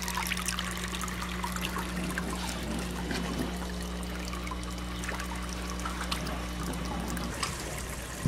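An aquaponics siphon drains water and flushes the cinder grow beds, a steady trickling and gurgling flow over a constant low pump hum, with no talking.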